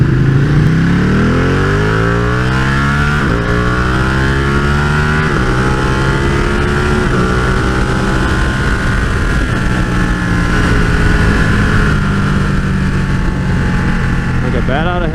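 A 2015 Ducati 1299S motorcycle engine runs loud and close, its pitch climbing and falling through several rev sweeps and gear changes over a constant roar with wind noise.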